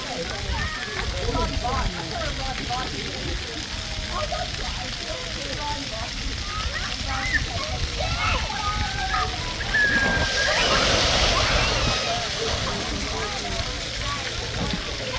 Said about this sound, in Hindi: ऊपर देखो पानी भर रहा है और अच्छा खासा पानी है।